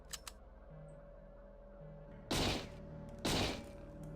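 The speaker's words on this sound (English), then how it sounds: "You're telling me my assault rifle doesn't instantly blow up a torpedo?" An assault rifle fires at a torpedo in the game System Shock 2, producing two short, loud bursts about a second apart after a quieter stretch of ambient hum and faint clicks.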